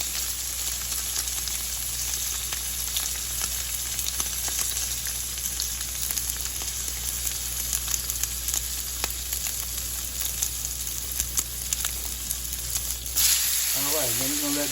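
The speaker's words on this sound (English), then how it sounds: "We're gonna put the cap in, cap side down first." Steady, loud sizzle of a steak searing fat cap side down in a hot pan, continuous crackling frying with a brief shift near the end.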